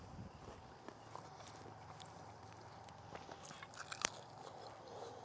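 Tender grilled chicken, slow-cooked low and outdoors, is chewed quietly, with faint soft bites and a few crisper crunchy clicks against a hushed outdoor background.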